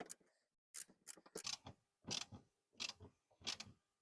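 Ratcheting clicks from a hand tool tightening the transaxle drain plug on a Volkswagen Beetle transmission, several short close bursts of mechanical clicking separated by pauses.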